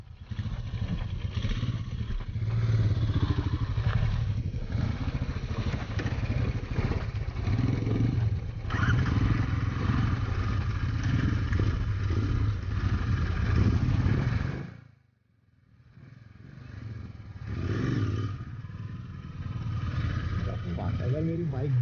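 Motorcycles ride along a road, including a Royal Enfield Interceptor 650 and a Bajaj Avenger, with a steady close engine drone and wind rush that dips sharply for a moment and then returns.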